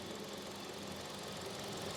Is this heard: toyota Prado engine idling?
yes